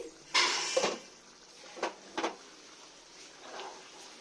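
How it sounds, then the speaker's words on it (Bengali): A metal lid lifted off a pot of mutton curry, heard as a sharp clank followed by a few lighter clinks and rattles, close and fairly quiet, with no talking. "এবার ঢাকাটা খুলছি।"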